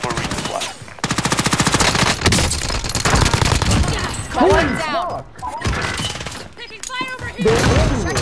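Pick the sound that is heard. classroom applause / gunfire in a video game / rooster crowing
gunfire in a video game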